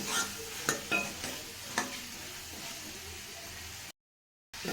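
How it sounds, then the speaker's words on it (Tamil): Cut pieces of half a coconut being sautéed in a pan for chutney, with a steady soft sizzle and several clicks and scrapes of a stirring spoon early on, then a brief silent gap. "அரை மூடி தேங்காய் சேர்த்திக்கிட்டேன் கட் பண்ணி சேர்த்தியாச்சு இதையும் நல்லா வணக்கிக்கலாம்"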